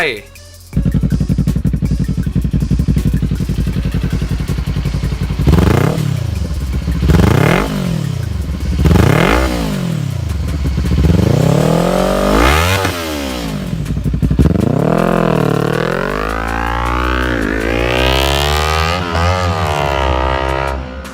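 A Kawasaki Ninja 400 motorcycle engine revs close by, a series of sharp throttle blips climbing and falling in pitch, each swelling louder, ending in longer sustained high revs.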